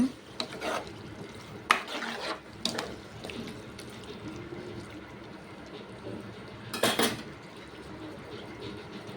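Mushrooms and tomatoes being stirred together in a cooking pan for a curry, giving a few scattered scraping and clinking strokes against quiet background hiss, with no voices.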